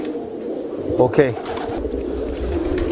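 Grey-beaked Iranian pigeons coo in low, soft bursts near the middle, with a voice talking over them and steady background murmur.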